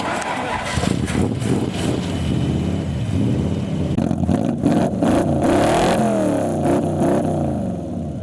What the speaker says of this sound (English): I think we're going to hear it start up for some V8 rumbles